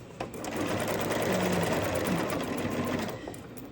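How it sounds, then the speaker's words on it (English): A sewing machine runs straight across a quilt block seam, a continuous close mechanical whir with a steady rhythmic motor drone lasting the whole stretch, tapering slightly near the end. "we're gonna sew right across"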